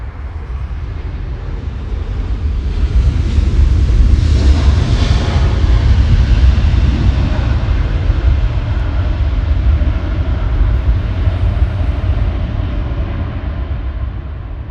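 A Lufthansa airliner on flight LH453 slows on the runway after landing. Its jet engines give a loud, broad, steady roar heard from a distance that swells slightly and then holds, with no voices.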